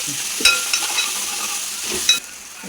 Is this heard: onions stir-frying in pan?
yes